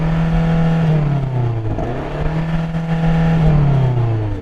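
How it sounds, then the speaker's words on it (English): A BMW M8 engine revs twice in close succession, each blip climbing then sliding back down, loud and near with a deep, harmonically rich tone and no talking over it. "Daniel, rev up your BMW."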